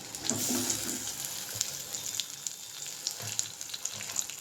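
Green chilli and onion frying in hot oil give a soft, steady sizzle with faint crackles, quiet and close, with a few light clinks and a watery hiss in the background.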